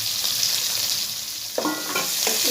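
Onion, ginger, garlic and green chillies frying in a pan, a loud steady sizzle with a few spatula scrapes toward the end.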